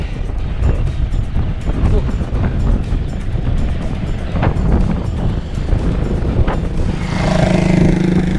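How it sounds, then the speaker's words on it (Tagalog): Strong headwind roars and buffets a microphone outdoors in Pililla, Rizal, a constant loud low rumble with gusting surges and a faint engine-like drone. "Lakas ng hangin."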